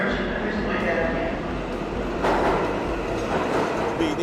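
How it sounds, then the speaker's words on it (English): A New York subway 7 train approaches Hunters Point Avenue station, a loud rumbling roar of wheels and cars with rattling clatter rising toward the end, while people talk over it. "The 7 train approaching Hunters Point Avenue."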